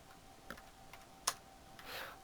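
A few scattered computer keyboard keystrokes sound close and quiet, including one sharper click and a brief rustle, with no talk.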